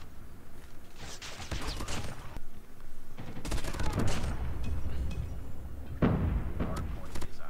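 Swordfish burst gun firing in a video game, with repeated short bursts of gunfire across the stretch, loud and close over busy game sounds.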